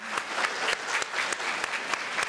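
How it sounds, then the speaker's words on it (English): A school audience applauds its teachers at a neuroscience talk on singing and the brain, a steady burst of many hands clapping densely and evenly throughout, fairly close and with no voices over it. "Let's give your teachers a round of applause,"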